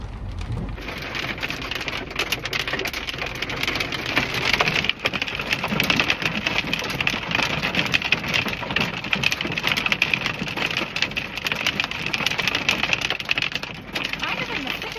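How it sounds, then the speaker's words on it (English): A snowstorm pelts a car on a mountain drive, a dense constant patter and hiss of snow and ice striking the body and windows, loud and unbroken, with a brief low rumble near the start. "oh my God, it's a full storm"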